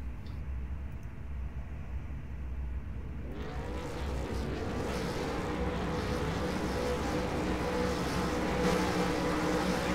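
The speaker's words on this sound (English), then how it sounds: "They're revving." V8 Supercar race car engines at a race start at Mosport, a dense, rising mechanical roar that swells abruptly after a quieter stretch and holds steady, fairly distant and blended with track ambience.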